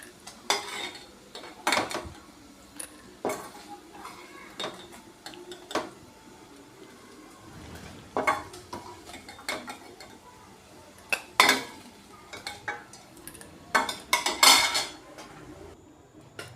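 Metal utensils clink and scrape as fried paneer pieces are lifted from a pan into a bowl for paneer curry, a string of sharp, close knocks and taps at an uneven pace with no talking.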